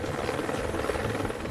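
A helicopter flies close overhead, a loud steady thrum of rotor chop and engine buzz lasting a second and a half, with no talking.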